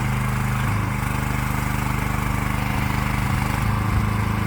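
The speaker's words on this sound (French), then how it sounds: "j'ai baissé la vitesse du moteur au minimum pour faire moins de bruit" An aerial lift engine, a Kompak 52-foot lift, idles steadily at its lowest speed, a constant mid-low drone with a faint rhythmic throb, loud and close, with no voices.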